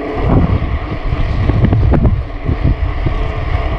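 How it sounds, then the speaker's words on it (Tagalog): Strong headwind buffeting the microphone during a ride, a loud continuous rumbling roar with gusty surges and no talk. "Pasalubong yung hangin na naririnig nyo."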